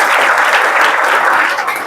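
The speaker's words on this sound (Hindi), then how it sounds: "तालियां हो जाए।" Schoolchildren applauding in a classroom, a brisk burst of many small hands clapping together, loud and continuous, tapering slightly at the end.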